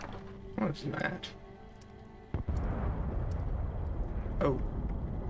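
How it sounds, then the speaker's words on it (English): A nuclear blast in Fallout 76 arrives as a sudden deep boom that swells into a sustained low rumble, with someone speaking briefly before and during it. "There's the explosion."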